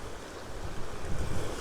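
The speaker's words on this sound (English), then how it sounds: "I'm just timing it so the waves are crashing up over the rock." Sea waves surge and crash over coastal rocks, a loud, close rushing roar that swells toward the end, with wind buffeting the microphone.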